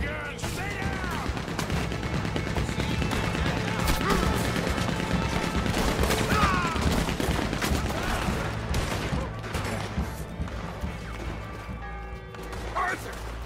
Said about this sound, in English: They got a Gatling gun! Stay down!